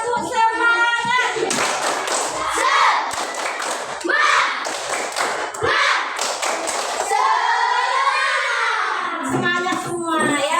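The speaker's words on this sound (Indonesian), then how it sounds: "kita tepuk semangat dulu" Schoolchildren in a classroom performing the 'tepuk semangat' clapping chant, rhythmic bursts of sharp claps in a set pattern alternating with loud sung and shouted group voices, close and energetic.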